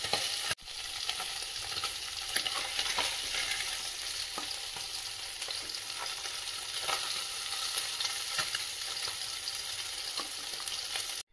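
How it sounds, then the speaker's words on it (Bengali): Tangra fish fry in hot oil in a kadai, giving a steady, loud sizzle and crackle that runs unbroken throughout, with no voices. "এভাবে সবগুলো মাছ ভেজে নেব।"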